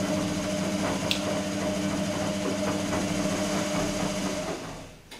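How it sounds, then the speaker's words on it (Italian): A steady, close hum from the slightly overheated brushed motor of an Electrolux-Rex RWP 1273 TFW washing machine, with a buzzing, whirring tone, runs unbroken, fading slightly at the very end. "È pur sempre un motore a spazzole"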